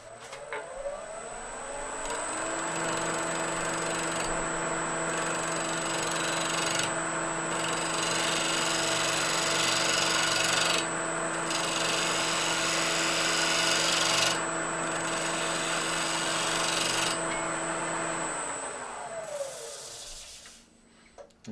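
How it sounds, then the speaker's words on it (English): A fluteless gouge shear scraping a wooden bowl on a lathe, with a steady motor hum and a continuous rough scraping hiss that swells in repeated passes before the lathe winds down. "I'll show you a shear scrape on this part here"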